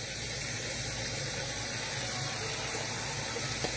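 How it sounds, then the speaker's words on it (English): White kidney beans are rinsed under running water in a kitchen sink, giving a steady, moderately faint rush of water that continues without a break. "But we are going to rinse and drain."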